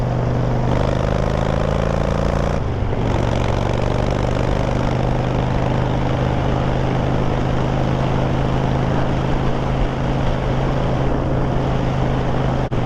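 A Harley motorcycle out riding makes a loud, continuous engine drone with wind rush, close and unbroken throughout, and nobody speaks.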